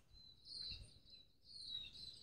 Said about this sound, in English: I can hear a lot more bird life.